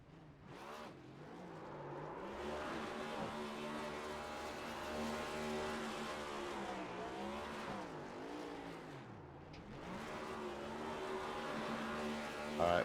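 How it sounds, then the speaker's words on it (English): A race car in a sim racing game at Kansas Speedway roars through celebratory burnouts, engine revving and wavering loudly and steadily for several seconds with tire squeal mixed in. "here is your winner, TJ Crampton, as he's going to celebrate with some burnouts here"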